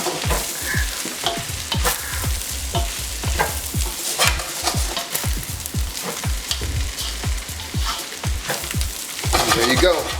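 Fried rice sizzles steadily in a hot pan, with repeated rhythmic scraping and tossing strokes of a spatula cutting through the frying hiss, close and fairly loud, no talking.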